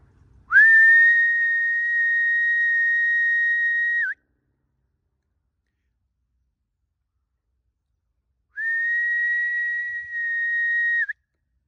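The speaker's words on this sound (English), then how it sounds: "We'll have another whistle." A person whistles on a woodland walk among ancient trees, with two sustained steady high-pitched notes, the first about three and a half seconds long, then a pause of silence and a second shorter note.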